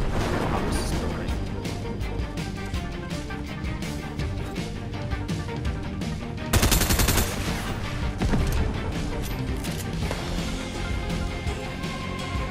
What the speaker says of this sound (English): Yeah, someone's shooting.